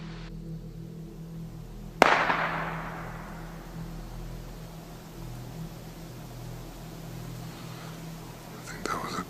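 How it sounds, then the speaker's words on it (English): A single sharp gunshot cracks out in a wooded area, then a long fading echo rolls through the trees over steady low background noise. "I think that was a gunshot."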